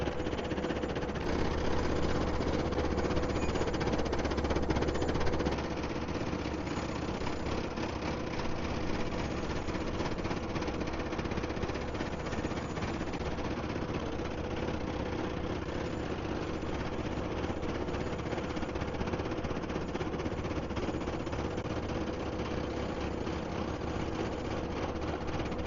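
A farm tractor engine runs steadily, working in a muddy potato field during planting, with a continuous moderately loud drone and vibration that holds an even level throughout without talking.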